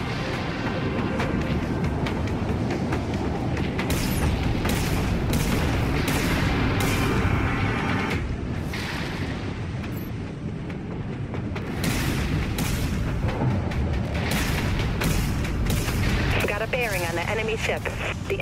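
Vulture missile launches and explosions in the naval combat game Dreadnought come as heavy booms and blasts in repeated bursts, with radio-style voice callouts over them.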